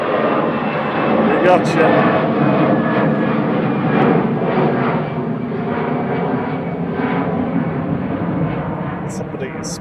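An airliner, flight 2237 bound for Copenhagen, roars steadily at Manchester Airport, a broad, loud engine rumble that holds throughout with a brief remark spoken over it.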